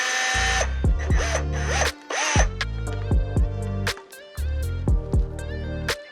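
Power drill pre-drilling three holes with a small-diameter bit while cutting climbing skins, heard as several loud whirring bursts that rise and stop, separated by short pauses, close up with no talk.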